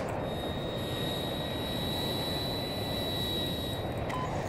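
Fighter jet engine in Battlefield 2042 on the Valparaíso map, a steady, loud roaring whoosh with a high whine that holds for several seconds, heard alone without talk.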